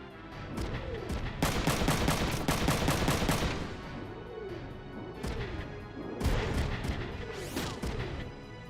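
Rapid bursts of enemy machine gun fire in the Front Mission 3 mech battle game, loud and dense volleys in two main stretches with sharp crashes between, no talk.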